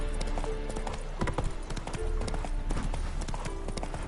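Horse hooves in a video game, a steady clip-clop of many close, clear strikes that keep a running gait throughout, with voices talking over them.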